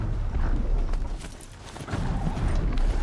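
Horse-like footsteps of a Strider mount in the video game Horizon Zero Dawn, a steady clip-clop of hooves at close range over a continuous low game rumble, with no talk.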